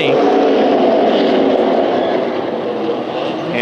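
Late model stock cars race around a short oval track, their engines roaring together in a loud, continuous drone that eases slightly toward the end.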